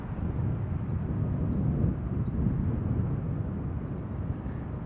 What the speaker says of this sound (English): This is KLM flight 744 arriving from Lima, the capital of Peru